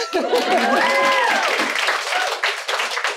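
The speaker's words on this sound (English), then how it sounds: "You can clap to that." Audience applause and cheering at a comedy-style Galentine's Day event, a loud burst of clapping mixed with crowd voices and whoops that fades over about three seconds.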